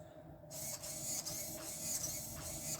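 The front steering servo of an RGT EX86180 Pro 1:10 RC rock crawler whirs in several short mechanical bursts, buzzy and close, with brief pauses between movements.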